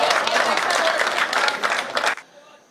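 An audience at a Hindi comedy stage show breaks into loud, dense clapping that swells for about two seconds, then cuts off abruptly into near quiet.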